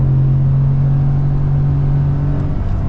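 A Ford F-150 Black Ops Edition pulling forward at partial throttle gives a steady, loud engine drone with a low rumble, heard from inside the cab, continuous and alone without talk.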